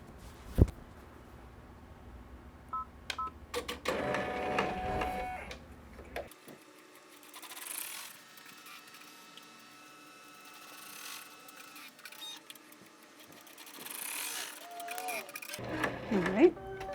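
An embroidery machine stitches Velcro placement lines onto felt for an in-the-hoop bear outfit, a steady mechanical chatter running through the middle after some handling noises, with a voice talking near the start and end.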